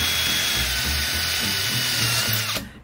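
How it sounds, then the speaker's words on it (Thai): An electric drill bores out an old aluminium rivet, giving a steady high whine with a grinding bite on the metal, close and loud, that cuts off abruptly at the end. "เริ่มด้วยการใช้สว่านเจาะลงไปบนรีเวทตัวเก่าเพื่อถอดรีเวทตัวเก่าออกก่อนครับ"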